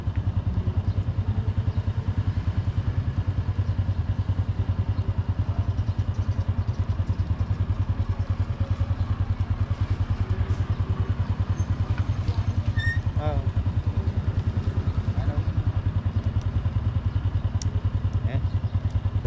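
A motorcycle rides through traffic in Vietnam, its engine putting out a steady, loud low drone with road rumble and wind throughout, and faint traffic noise in the background.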